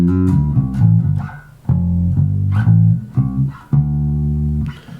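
Bass guitar plays a solo lick with hammer-ons from minor to major third, a run of punchy, close, melodic notes in short phrases with brief gaps, no talking.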